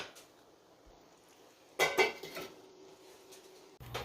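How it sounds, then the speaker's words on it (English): A metal lid set onto a pot of cooking rice in a kitchen, one sharp clattering clink with a brief rattle, fairly faint against a quiet room hum. "I'm going to put the lid on and let this finish cooking"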